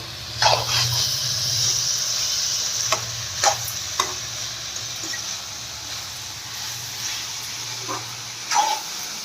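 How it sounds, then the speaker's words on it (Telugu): Ivy gourd fry stirred with salt in a pan, a light steady sizzle with spaced scraping strokes of a spatula close by and a low background hum. "మనం వేసిన సాల్ట్ అంతా ఇలా కలుపుకోవాలి"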